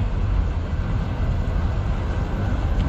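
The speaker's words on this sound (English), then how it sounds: "Gonna stay for this train." CN 301 westbound manifest freight train with CN 8017 and CN 8937 locomotives passing in Sarnia, a loud, steady, broadband rumble and roar of rolling cars held close and constant throughout.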